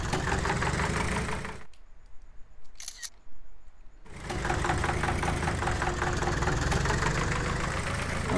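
A Zetor HMT 2511 two-cylinder mini tractor engine in the Farming Simulator 18 game runs with a loud, steady knocking throb, cuts out for a couple of seconds of near quiet, then restarts and settles back into its rough idle.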